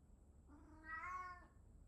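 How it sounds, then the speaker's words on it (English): A house cat gives one soft, drawn-out meow that rises and falls, quiet and alone against faint background hiss. "that's my cat Henry."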